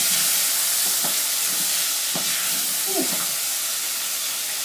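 A pot of sadza steams and sizzles in a loud, continuous hiss, with a few soft bubbling pops and stir knocks scattered through it.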